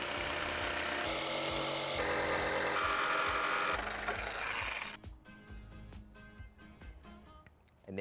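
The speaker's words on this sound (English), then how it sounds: "This is the saw we're gonna use for this." A power saw cuts wood for a rolling planter, buzzing loudly and steadily near at hand with shifts in pitch, then stopping and giving way to a few scattered clicks and knocks.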